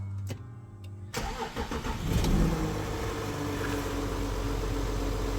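An Audi car engine with a DPF fault (P0471) cranks briefly, catches and roars to life, then settles into a steady, loud idle close by.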